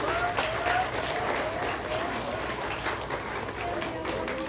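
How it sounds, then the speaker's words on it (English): Crowd applause at a Nashville Zoo animal show, a sustained dense clapping from many spectators with faint voices and a few whistles or cheers mixed in. "Y'all can give him a round of applause."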